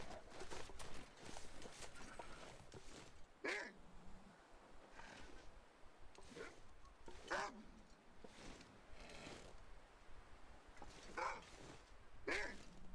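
A dog in the video game Interloper gives a few faint, spaced barks or growls against a low game background.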